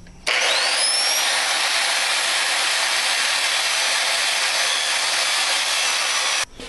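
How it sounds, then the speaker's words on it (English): A big grinder with a cutoff wheel cuts metal on a war hammer, giving a loud, steady high-pitched whine that holds for about six seconds before cutting off. "So got to resort to the old method, the big grinder."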